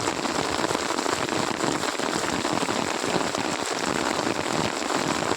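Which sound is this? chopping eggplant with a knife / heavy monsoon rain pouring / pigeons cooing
heavy monsoon rain pouring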